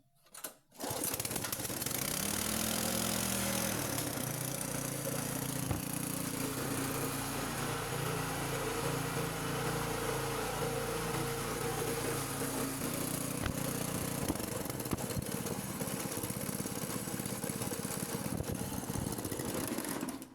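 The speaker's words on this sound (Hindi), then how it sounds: "तो ये आपने देखा बिल्कुल फर्स्ट किक के अंदर स्टार्ट हो गया है।" Petrol engine generator kick-started, catching almost at once and running steadily with a loud, buzzing high-revving drone that holds for the whole stretch, no talking.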